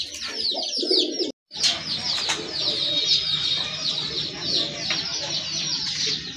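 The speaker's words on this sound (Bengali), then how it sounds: "এখানে কিন্তু আরেক জোড়া রাজগোল্লা কবুতর রয়েছে, কলসি গলা মার্কিং সম্পন্ন কবুতর।" Rajgolla pigeons with pitcher-neck markings coo in a loft, a busy, continuous mix of close coos and chirps with other birds calling nearby and a brief silent gap near the start.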